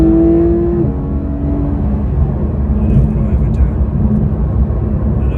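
A Porsche 911 GT3 RS engine revving hard toward high rpm, a loud rising then sustained roar with tonal harmonics, heard close inside the car while people talk over it.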